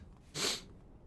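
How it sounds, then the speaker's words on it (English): A single quick sneeze-like burst of breathy noise, close and sudden, with near silence around it. "Think I'm gonna sneeze."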